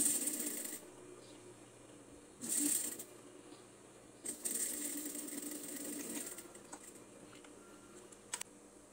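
A sewing machine stitching a sleeve finishing onto fabric at presser-foot width, running in short bursts of rapid mechanical whirring separated by quiet pauses and small clicks, close and fairly soft.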